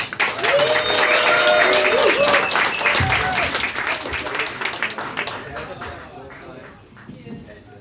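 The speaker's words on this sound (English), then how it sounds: "So give it up for Mr. Daniel Rice!" A live comedy-show audience applauds and cheers loudly as a comedian is introduced onstage. The clapping is dense and sustained, with voices mixed in, and it fades toward the end.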